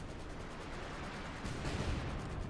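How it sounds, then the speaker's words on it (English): Artillery fire in the WWII strategy game Company of Heroes 2, heard as a steady rumble of battlefield gunfire that swells into a louder, heavier barrage of booming impacts partway through, with no voices over it. "he's calling in artillery to maybe shoot"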